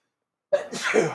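A single sharp human sneeze bursts out close by after a moment of silence, brief and fairly loud, with no talking around it.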